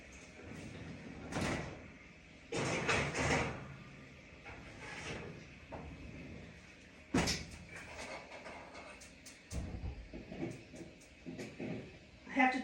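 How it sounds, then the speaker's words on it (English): Oven door clunking open and shut as a par-baked tomato basil squares crust goes into a home oven, several loud knocks and bangs close by with quiet kitchen sounds between. "I'm gonna put this just like that right into the oven."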